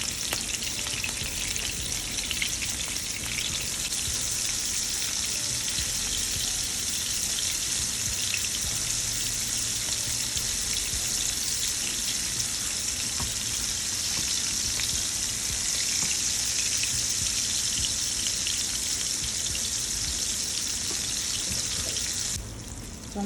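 Shrimp frying in a very hot pot on a stove set to medium, a loud, steady hissing sizzle that carries on unbroken for over twenty seconds, with faint crackles and stirring and no talking.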